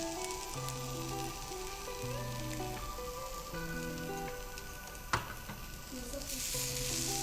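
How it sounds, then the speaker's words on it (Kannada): Dal and dill leaves fry steadily in a pan with a continuous sizzle, and a faint melody plays underneath. A single sharp clatter cuts through partway along. "ಒಂದು ಟೂ ಮಿನಿಟ್ಸ್ ಈ ಥರ ಫ್ರೈ ಮಾಡ್ಕೋಬೇಕು"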